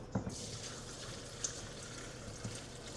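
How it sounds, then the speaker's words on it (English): Chicken bone broth pours steadily through a pasta strainer into a bowl, a continuous soft liquid splash and trickle with a few faint clinks. "So our idea is to use a pasta strainer and kind of just leave it on here while we fill this bowl with the liquid."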